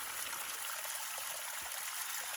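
Water runs in a steady, faint trickle while gold prospecting material is processed, an even hiss of flowing water with no voices over it.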